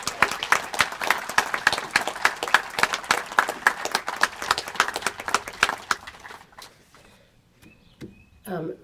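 Audience clapping at an outdoor Memorial Day wreath-laying ceremony in Fanwood, a steady burst of many hands for about six seconds before it tapers off into quieter background sounds.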